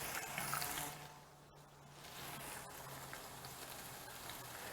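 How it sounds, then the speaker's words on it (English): Onions sautéing in a pan for a creamy tomato soup give a steady, soft sizzle and crackle close by, running evenly throughout with no talk. "let's start sauteing off these onions here"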